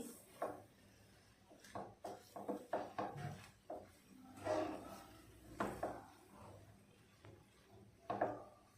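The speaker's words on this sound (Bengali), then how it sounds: "আস্তে আস্তে মিক্স করে নিচ্ছি।" Custard vermicelli mixture stirred in a pan on the stove, with quiet irregular scrapes and taps of a spoon against the pan, some louder clacks spaced unevenly, all faint and close.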